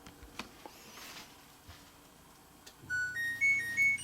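An LG Styler clothing care machine sounds its power-on chime, a short rising sequence of clear electronic tones over a low hum, after a few quiet clicks.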